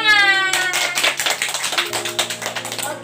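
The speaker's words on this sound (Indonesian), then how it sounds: "Tepuk tangan" Brisk hand clapping from a group of students in a micro-teaching class, dense and fairly close, lasting a few seconds after a brief sung note fades.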